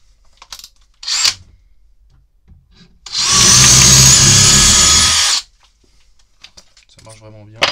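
A DeWalt percussion drill in drilling mode at speed 2 bores into material in one loud, steady two-second run, with quiet handling noises and brief talk around it.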